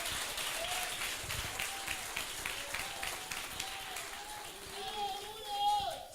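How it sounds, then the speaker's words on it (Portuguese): A church congregation applauds in a steady wash of clapping, heard under a preacher's loud speaking and other voices. "Agora pode aplaudir ao Senhor."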